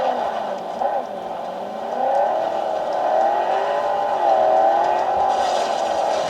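Engine drone of a car driven in the Cyberpunk 2077 video game, a steady mid-pitched hum that rises and falls with revving throughout, running on a low-end laptop.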